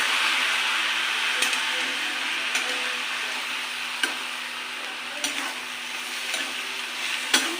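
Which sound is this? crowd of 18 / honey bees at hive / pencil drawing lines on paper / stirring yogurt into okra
stirring yogurt into okra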